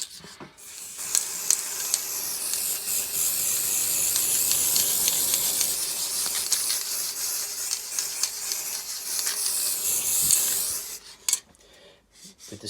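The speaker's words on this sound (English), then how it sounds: "With the static layering spray, more is what you need." Static grass layering spray hisses steadily from a nozzle for about ten seconds, a close, continuous rasping spray with small pulses, stopping near the end.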